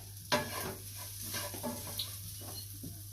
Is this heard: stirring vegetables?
yes